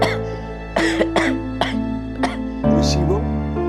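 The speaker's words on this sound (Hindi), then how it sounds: "इतना खांस क्यों रहा है?" Several sharp coughs in quick succession from a close voice, followed by a throat-clearing rasp over a steady low hum.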